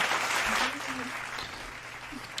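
Clapping on a live online wheelchair and spinal cord injury talk show, a loud burst at the start that fades into quieter background noise, with faint voices underneath.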